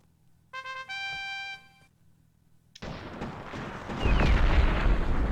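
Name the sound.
artillery cannon fire in Cossacks: Back To War video game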